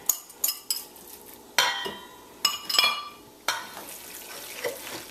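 A spoon stirs a runny cassava batter with grated cassava in a bowl, giving a series of irregular clinks and scrapes against the bowl with short wet sloshes between them, close and alone.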